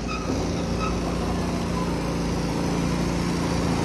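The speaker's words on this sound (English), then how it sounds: "Our forklift." A forklift running at a truck refurbishment yard, a steady droning engine hum with faint whine, continuous and fairly close amid general workshop noise.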